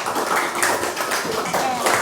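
A group claps in a classroom after a student's answer. The clapping is dense and close, with voices mixed in throughout.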